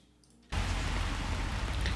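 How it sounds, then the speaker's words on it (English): Traffic in the rain at a bus stop, recorded as ambience, cuts in abruptly after a brief quiet moment as a loud, dense, steady wash of rain and road hiss that continues evenly to the end. "It's just ambience. It's the sound of traffic in the rain"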